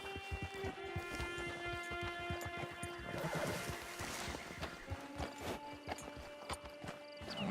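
Hooves clatter in a quick, steady galloping rhythm as a horse runs in Red Dead Redemption 2, loud and close, with a rough outdoor ambience.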